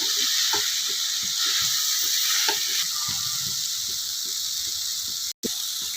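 Ridge gourd and other vegetables sauté in hot oil and ghee for a dosa side dish, giving a steady bright sizzle with regular light clicks and scrapes of stirring, close and continuous.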